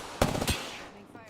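Gunfire from a nearby fight in Apex Legends, two sharp bursts in quick succession followed by a fading tail and fainter distant shots, with no voice over it.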